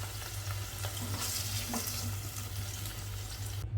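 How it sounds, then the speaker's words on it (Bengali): Mushrooms fry in a pan with a little sauce, giving a soft, steady sizzle punctuated by light stirring clicks and scrapes until it cuts off. "ভালো করে মাশরুমটাকে ভেজে নেব"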